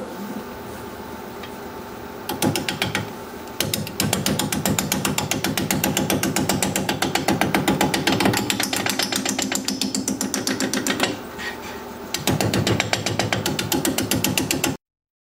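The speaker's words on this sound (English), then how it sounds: "we'll get to turning some kind of a bowl out of this piece of alder" An alder bowl blank spins on a wood lathe while a bowl gouge cuts it, giving a loud, steady chattering rasp that starts after a quiet lead-in and breaks off briefly twice before resuming.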